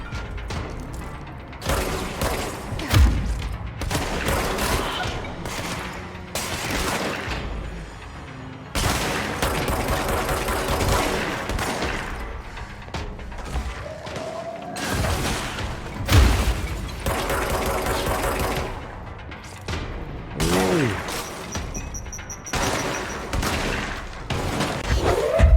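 Rapid, loud gunfire from the shooter game Control fills the stretch, with dense bursts and crashing impacts, a few brief pauses, and mechanical clatter mixed in.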